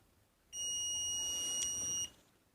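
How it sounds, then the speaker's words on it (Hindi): A multimeter in buzzer mode gives a single continuous high beep, about one and a half seconds long, as it tests a cable for continuity. "अगर ये बीप का आवाज़ देता है तो मतलब सही है"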